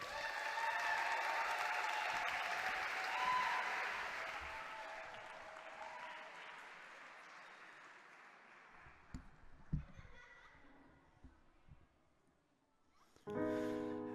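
Audience applause for a singer at a song contest final, loud and sustained at first, then gradually fading over several seconds, with a few scattered claps and a brief burst of louder sound near the end.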